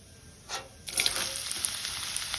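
Small chopped carrot pieces drop into a hot pan while sago khichdi is being cooked, and a faint hiss swells into a loud, steady sizzle that carries on close by.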